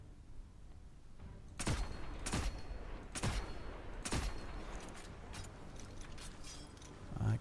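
Gunfire aimed at Shank drones in the sci-fi shooter Destiny, about five sharp, evenly spaced shots over a low ambient hum, fairly close.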